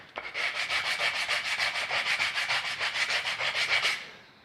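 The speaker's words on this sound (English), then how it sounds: "just take a block of wood, regular piece of sandpaper, and just do it by hand" Sandpaper wrapped on a wood block rubs back and forth by hand on a wooden urn in a steady, rapid rhythm of rasping strokes, close and clear, with no voices.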